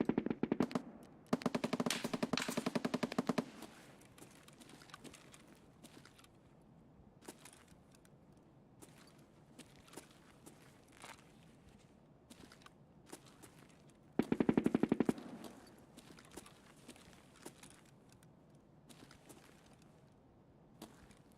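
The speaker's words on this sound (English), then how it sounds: "A lot of fucking shooting." Gunfire in a video game: rapid automatic bursts, with a dense volley at the start and another around the middle, plus scattered single shots between them, all at a moderate distance and fairly quiet.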